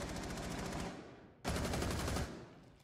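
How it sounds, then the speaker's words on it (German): Enemy gunfire in Rainbow Six Siege: two sustained bursts of rapid automatic fire, loud and close, separated by a brief lull, with no talking. "Was schießen die denn da, Alter?"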